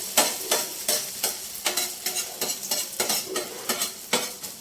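A homemade breakfast pizza fries in a pan, with a steady sizzle cut by a regular rhythm of close spatula scrapes, about three per second, and no voices.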